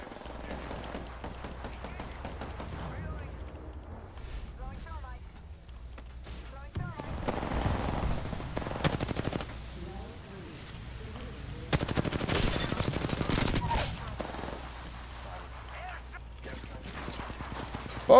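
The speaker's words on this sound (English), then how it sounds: "Oh shit, turret, turret!" Turret gunfire in Apex Legends, with rapid automatic bursts rattling on and off and two louder sustained volleys, with a voice talking excitedly over it.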